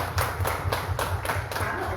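A church congregation claps in rhythm, sharp evenly spaced hand strikes landing about four times a second, close and fairly loud, with a murmur of voices underneath.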